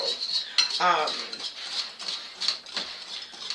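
A whisk scrapes and clinks briskly in a bowl as a shower steamer mixture is stirred clockwise, giving quick rhythmic metallic strokes close by.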